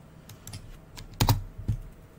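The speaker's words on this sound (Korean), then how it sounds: "스페이스 바를 눌러서" A space bar pressed on a computer keyboard: a few soft key clicks followed by two firmer, louder thumps close by, in a quiet room with no talking.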